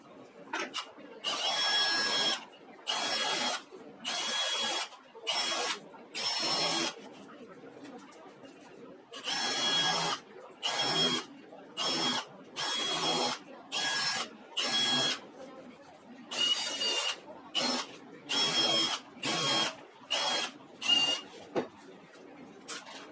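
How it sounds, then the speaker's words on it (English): A power drill with a countersink bit whirs in repeated short bursts separated by brief pauses, drilling screw holes for a pedalboard box, steady and close, with a faint voice underneath at times. "We'll be drilling the screw holes with a countersink bit."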